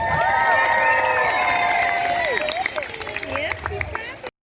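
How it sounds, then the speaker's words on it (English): Crowd cheering and shouting at an All-Alaskan Racing Pigs show at The Grove in Hollywood, Los Angeles, with whistles and high excited voices, loud and sustained before tapering off abruptly. "let's all give one big final cheer for the stars of our show, the All-Alaskan Racing Pigs!"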